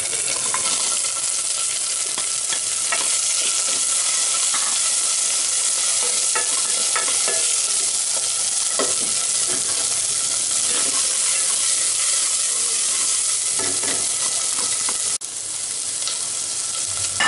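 Diced onions and browned garlic fry in a pan with a steady, close broadband sizzle that runs the whole time, broken by scraping stirs and small pops, with no talking.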